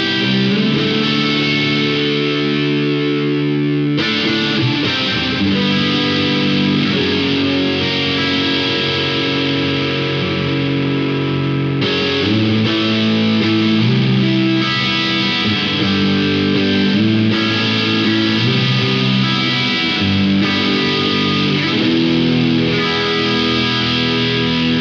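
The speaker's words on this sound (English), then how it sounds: "You can have a drive in front and after the reverb." Electric guitar played through the Safari Pedals Dirty Dog overdrive and reverb plugin, giving a continuous distorted, reverb-washed tone with sustained chords and shifting notes throughout, loud and alone with no talking.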